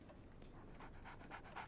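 A dog pants in quick, steady breaths inside the video game Sherlock Holmes: The Awakened, close and fairly quiet, with no talk over it.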